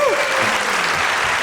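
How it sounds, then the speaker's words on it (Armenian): Audience applause at a New Year's Eve show, a steady, dense wash of clapping from a crowd that holds evenly for a second and a half. "եկեք բարձր ծափարենք մի հատ"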